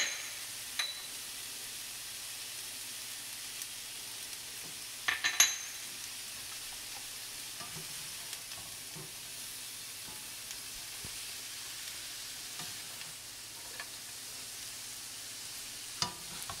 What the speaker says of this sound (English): and a few more minutes, stir fry